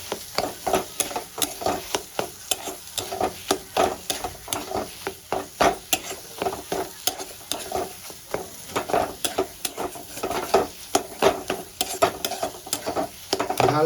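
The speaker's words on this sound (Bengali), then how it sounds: "এবার সবগুলো মশলার সঙ্গে একটু কষিয়ে নেবো" Spice paste frying in a pan for an eggplant bharta, with steady rhythmic scraping of a spoon stirring through a soft sizzle, close and fairly quiet throughout.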